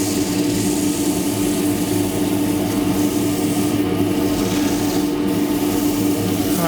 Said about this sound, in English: what you need is steady, even pressure when you're sanding,